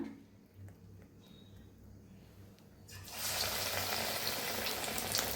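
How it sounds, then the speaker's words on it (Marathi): Bread pakoras dipped in batter hiss and crackle in hot oil, a steady fry that swells louder partway through as pieces go in, with no talking. "ह्याला आता ह्याला बी छान असं तळून घेऊया"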